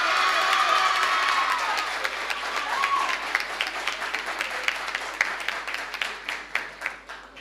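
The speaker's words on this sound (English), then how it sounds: "So we want to give them another round of applause for that." An audience at a school heritage debate applauds and cheers a debating team, loud dense clapping with shouts and whoops at first, thinning into more distinct separate claps toward the end.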